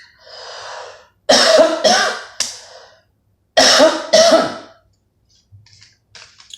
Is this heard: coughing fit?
yes